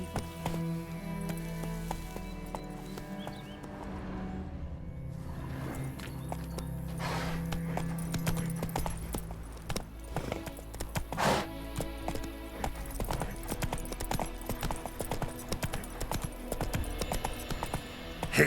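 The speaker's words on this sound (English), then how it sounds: "Whoa there, Roach." Hooves of the horse Roach in The Witcher 3 clip-clop at a moving pace over ground, steady and close, with occasional louder thuds and some background game ambience.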